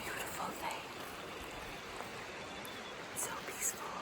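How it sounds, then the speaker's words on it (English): A forest stream on the Milford Track in New Zealand gives a faint, steady rushing hiss of flowing water, with a couple of brief distant bird chirps near the end. "All you hear are water, birds."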